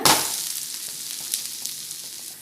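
A carrot and onion dosa sizzles on a hot pan, the frying hiss loudest at first, then settling into a steady, softer crackle with small pops.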